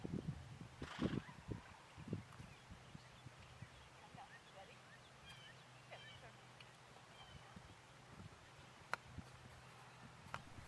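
A horse cantering on long lines in an arena gives faint, rhythmic hoofbeats in the first few seconds, then quieter movement with soft voices and scattered clicks.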